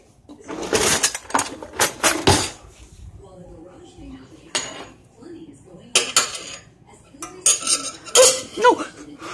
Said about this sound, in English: Now let's mix it all up with a spoon.